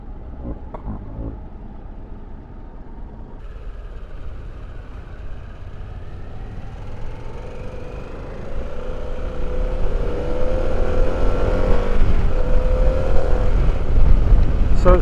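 A Harley-Davidson motorcycle engine pulls steadily on a test ride, its low rumble swelling louder and rising in pitch as it accelerates, with wind noise building over it.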